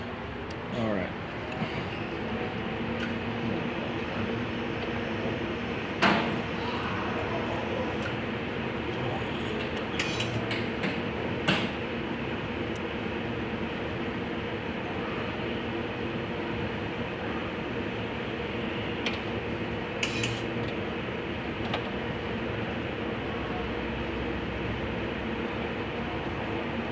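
An automotive A/C recovery machine recycles refrigerant with a steady mechanical hum and faint whir throughout, punctuated by occasional clicks and knocks, while people talk quietly nearby.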